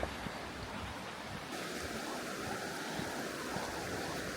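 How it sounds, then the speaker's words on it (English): River water flows steadily in Albarracín, a constant broad rushing wash that stays even and close throughout, with no voices. "The river looks to be flowing nicely"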